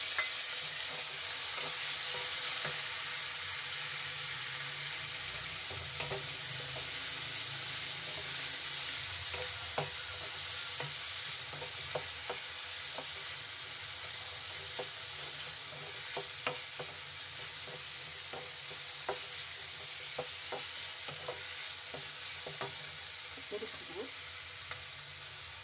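Chillies and tomatoes frying in a pan for Karnataka-style rava uppittu, with a steady close sizzle throughout and occasional light scrapes and clicks of a spoon stirring.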